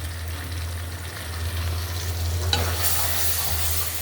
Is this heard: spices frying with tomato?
yes